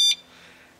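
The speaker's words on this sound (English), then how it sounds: "Well, the alarm is on." An alarm installed on a Honda-clone go-kart engine gives one short, sharp high-pitched electronic beep that cuts off quickly, leaving a faint low hum.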